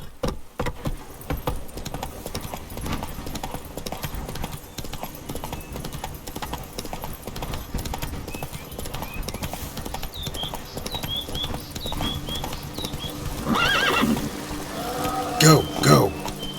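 Horse galloping in The Witcher 3: Blood and Wine, a steady run of hoof clip-clops throughout, with a rider's voice and a brief whinny-like burst near the end.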